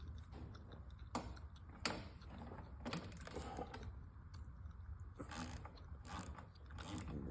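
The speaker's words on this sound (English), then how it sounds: "For this job, it's a 5/8 on a 3/8 drive ratchet." A 3/8 drive ratchet with a 5/8 spark plug socket loosens the spark plug on an Echo PB9010T backpack blower, quick rapid clicking pawl bursts in several close runs, no talking.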